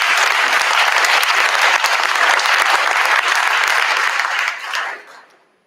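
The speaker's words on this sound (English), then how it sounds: "Give them a big round of applause." Sustained audience applause fills a conference hall at a digital society event, steady dense clapping throughout before fading out over the last second.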